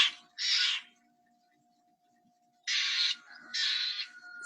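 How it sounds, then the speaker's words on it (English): Steller's jay giving harsh, screaming calls: one burst early, then two more after a pause, loud and close with a faint steady tone beneath. "And there it is, Steller's jay, which sounds like this."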